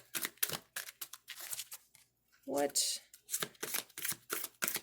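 Archangel oracle cards are shuffled in repeated short rustling bursts, close and crisp, with someone speaking intermittently between them.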